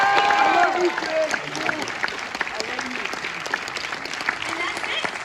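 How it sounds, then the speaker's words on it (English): Audience applause with cheering closes a Gray Man Q&A panel in Los Angeles, a dense steady clapping crowd with scattered whoops and talk mixed in near the start, holding its level throughout. "Let's give this amazing panel another big round of applause"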